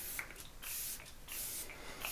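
L'Oreal hydrating fixing mist sprays onto a face in a few quick, soft hissing bursts, close and faint, with short pauses between pumps.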